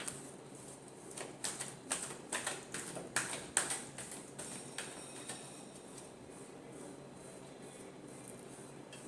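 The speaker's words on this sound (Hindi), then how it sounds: "last shuffle" A deck of tarot cards is shuffled in a quiet room, producing a quick run of crisp, faint riffling taps and flicks that cluster early and then fade into near silence.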